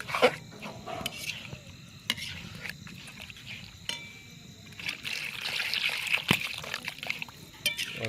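Chilli chicken gravy bubbles and simmers in a pan with wet gurgles, soft liquid trickles and stirring scrapes, moderately close, as a faint voice and a sharp clink break in now and then.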